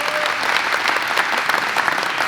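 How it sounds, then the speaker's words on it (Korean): A crowd at a school alumni gathering breaks into steady, dense applause that fills the whole stretch with even clapping and no voices on top. "여러분 큰 박수로 맞이해주시기 바랍니다"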